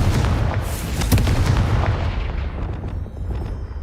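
Spell explosions from a Hogwarts Legacy duel, such as Bombarda and Confringo: a dense run of loud, close booms and crackling blasts that overlap in rapid succession, then ease toward a rumbling tail.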